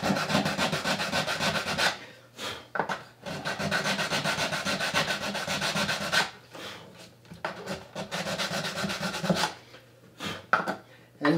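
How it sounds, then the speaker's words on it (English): Small sanding stick rubbed back and forth on wood at a guitar neck joint during a neck reset, three long bursts of steady close rasping scrub separated by brief pauses and a few short strokes. "Now I can take my little sanding stick."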